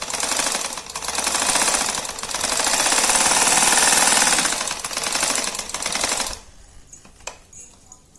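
Sewing machine top-stitching a handmade cloth purse, a loud rapid mechanical chatter running in several continuous bursts before cutting off, followed by a few faint handling clicks.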